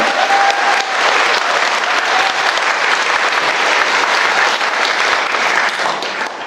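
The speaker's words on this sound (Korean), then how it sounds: "박수 한번 주십시오." A large crowd at a Bucheon apartment reconstruction briefing gives sustained, dense applause that stays loud and even throughout, easing slightly at the end.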